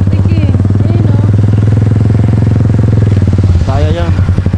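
A tall motorcycle rides slowly along a deep, muddy road, its engine droning steadily and loud up close, while voices talk over it throughout.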